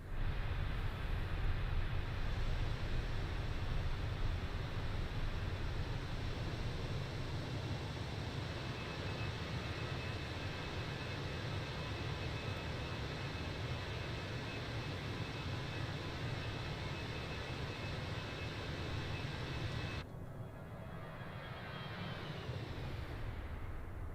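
A Fenix A319 airliner makes a flyby over Ecuador in Microsoft Flight Simulator 2020, its jet engines giving a steady, loud roar for about twenty seconds before cutting abruptly to a quieter hum.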